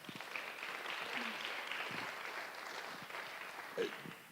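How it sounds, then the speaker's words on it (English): Soft, distant applause from a conference audience at a forum's closing keynote, a faint continuous patter of clapping with a few louder claps and stray voices mixed in. "Let's give them all a round of applause as well."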